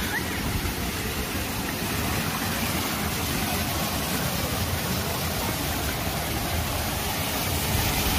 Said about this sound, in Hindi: यहाँ भी पानी गिर रहा है